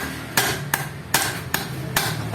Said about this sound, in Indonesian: Kita pakai obeng dan pakai palu.